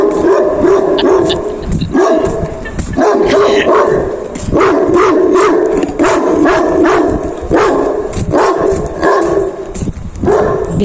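A restless dog barks repeatedly at night outdoors, loud, close yips and bow-wows in an irregular rhythm with whimpering between them and no talk over it.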